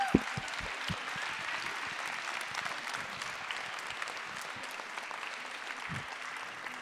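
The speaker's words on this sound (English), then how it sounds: "Let's give one more round of applause." Steady, dense audience applause at a Heritage Christian School spring performance, many hands clapping continuously and fairly loudly for the whole stretch with no break.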